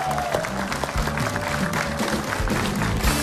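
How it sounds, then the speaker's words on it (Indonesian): Audience applause for a magician after a sawing-a-woman-in-half stage trick, a steady dense wash of clapping with faint background music throughout, no speech over it. "Apapun yang terjadi, beri tepuk tangan buat magician yang membuli saya."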